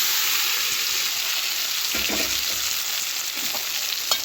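Boiled tapioca is mixed into a sizzling pan with curry leaves and dried chillies, a steady hiss of frying with a few dull stirring knocks.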